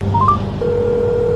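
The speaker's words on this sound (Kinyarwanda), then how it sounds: "Telefone." A telephone sounds a quick pair of rising dialing beeps, followed by a steady, loud electronic tone held to the end.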